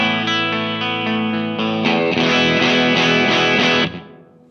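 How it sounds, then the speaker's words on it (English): Electric guitar chords strummed in a steady rhythm through an Echo Fix EF-P3 chorus vibrato pedal, colored by a wavering chorus-vibrato effect, loud and close, then cut off abruptly. "chorus vibrato sounds like this"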